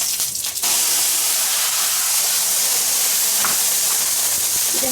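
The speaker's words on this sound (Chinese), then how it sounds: "我的水开了，把猪肝下去" A pot of water for pork liver soup comes to a full boil, a loud, close, continuous roaring hiss of steam and bubbling that holds steady after a brief quieter moment at the start.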